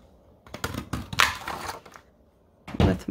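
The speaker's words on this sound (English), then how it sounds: "let me go ahead and punch all of these out" Handheld paper punches clunk and crunch as they cut shapes out of cardstock, several sharp pressing bursts with short quiet gaps between them, close and fairly loud.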